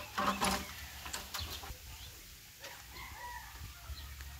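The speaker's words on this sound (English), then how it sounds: "This is our Rhode Island chickens, and they are laying brown egg." Rhode Island Red hens on a farm that lays brown eggs, scattered soft clucks and a few sharper calls from the flock, moderately close against a quiet outdoor background.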